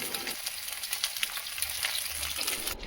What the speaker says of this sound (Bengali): কড়াইতে তেল গরম হয়ে গেলে আমি ট্যাংরা মাছগুলি ভাজতে দিয়ে দিয়েছি।